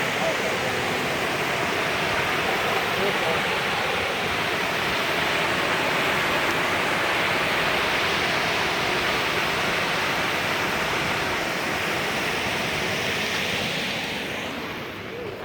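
Steady, dense rush of water pouring over the Nevada Mills dam, a continuous broadband roar close by with no change in intensity, easing slightly only at the very end.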